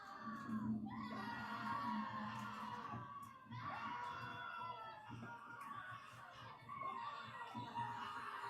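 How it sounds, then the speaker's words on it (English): Overlapping high screams and shouts from many voices in a staged performance piece meant to sound like people dying, rising and falling in waves and continuing throughout. "there's gonna be screaming soon, like people dying"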